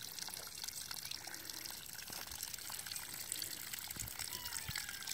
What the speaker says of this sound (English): Water coming out of the hillside, running down the hillside towards the beach.